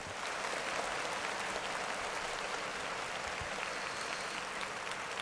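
Steady applause, a broad hiss of clapping that holds at an even level from start to finish, with no voices over it.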